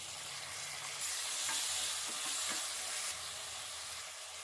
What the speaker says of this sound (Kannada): ಆನಿಯನ್ನು ಫುಲ್ ಬ್ರೌನ್ ಕಲರ್ ಆಗ್ಬೇಕು, ಅಲ್ಲಿವರೆಗೂ ಫ್ರೈ ಮಾಡ್ಕೋಬೇಕಾಗುತ್ತೆ ಇದನ್ನ